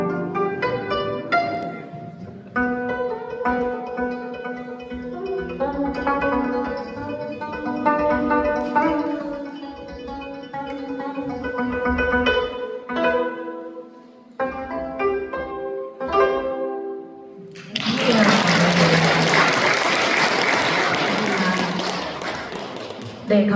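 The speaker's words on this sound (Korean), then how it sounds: "25개의 줄을 가진 가야금 한번" A 25-string gayageum is plucked in a melodic run of ringing notes at a Sunday Won Buddhist service in a temple hall, played alone and close for most of the passage before loud applause from the audience breaks in near the end.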